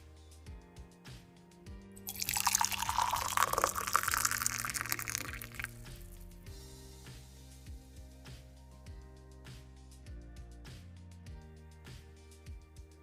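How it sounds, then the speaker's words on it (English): Water pours into a container to mix worm castings tea, a broad splashing rush swelling for a few seconds and then tapering into scattered drips and light handling knocks. "And then you just pour your water in."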